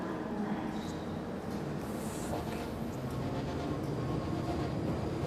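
A train at the Bond Street station platform in the video game Late Shift gives a steady, loud low rumble that holds evenly throughout, with faint higher hiss and no clear voices.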